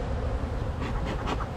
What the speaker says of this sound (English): And these bees are looking good.